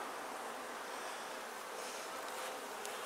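Honeybees buzz around an opened top bar hive during an inspection, a dense continuous hum at close range with no talking.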